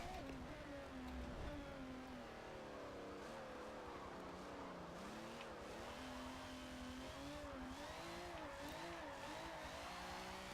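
Tires squeal as a car drifts in Forza Motorsport 7, a steady wavering screech riding over continuous engine drone for about ten seconds, with no voices.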